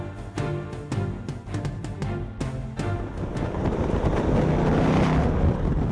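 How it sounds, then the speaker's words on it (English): A Ford Bullitt Mustang's V8 engine roars on a San Francisco drive, a loud throaty rumble with sharp repeated revs and gear-shift bursts that builds into a sustained, rising drone. "Ford's new Bullitt Mustang, complete with the throaty roar from its V8 engine, is rolling into showrooms"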